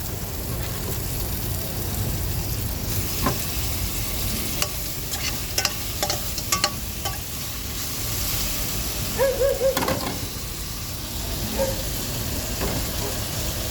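Ginger, garlic, tomato and ground spices sauté in a hot pan for a chicken dish, a continuous close sizzle broken by scraping stirs and clinks of a spoon against the pan.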